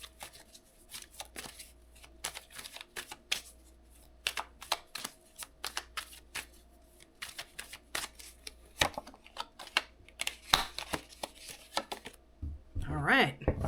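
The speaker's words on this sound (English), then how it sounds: "I'm going to pull 3 random cards" Tarot cards shuffled by hand, close and soft, a long run of quick riffling flicks and slaps, then cards drawn and laid down, with a voice heard near the end.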